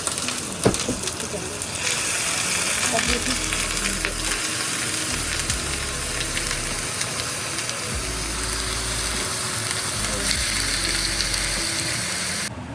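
Chicken fries in a pan with onions, giving a steady bright sizzle throughout, with occasional stirring clatter and a low hum underneath as someone talks over the cooking.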